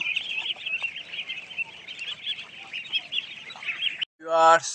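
Ducks call out in a Ganna village setting: a steady, high chirping chorus runs throughout, then a loud, short, nasal call bursts out close by at the very end.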